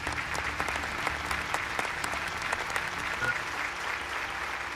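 Steady applause from a crowd of people clapping continuously, with sharp individual claps peppered through a dense wash of hand noise, fairly loud throughout with no voices standing out.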